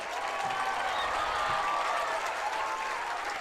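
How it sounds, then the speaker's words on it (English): Crowd applause at a high school lacrosse conference championship game, honoring both teams: steady, dense clapping that holds at an even level throughout, with no clear voices above it. "Round of applause for both teams in tonight's game"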